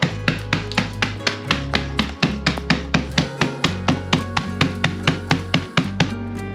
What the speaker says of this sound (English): whatever you can get your hands on is gonna be what's best to mallet these hot Cheeto puffs